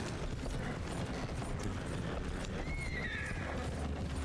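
A horse in Red Dead Redemption 2 whinnies, a drawn-out neigh rising then falling, over a steady background of hoof clops and outdoor ambience.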